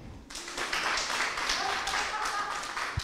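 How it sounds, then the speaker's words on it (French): An audience claps for a man who has just stepped forward at a motivational talk, a moderate burst of hands close to the listener, slightly uneven and brief. "On l'applaudit bien fort."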